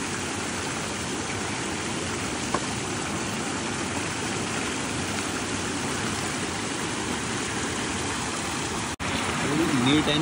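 Water rushes steadily through a stream channel in a Konkan village during rain, a continuous close broadband flow that drowns out other detail.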